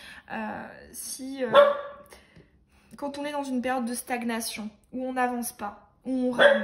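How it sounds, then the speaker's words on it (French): A dog barks indoors at a running vacuum cleaner, giving a few short, sharp barks mixed in with someone talking steadily in French. "Je suis désolée pour les aboiements de ma chienne, elle aboie sur l'aspirateur."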